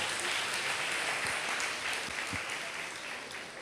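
A congregation claps together at a Palm Sunday church service, a dense, steady wash of applause with a few louder individual claps, sustained throughout.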